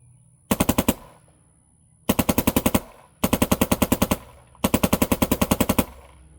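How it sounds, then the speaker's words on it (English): An MXR paintball marker fitted with a Method bolt and DSR ammo, fired in four close, loud bursts of rapid shots with short pauses between them and no talking. "Let's go ahead, put a few rounds down range"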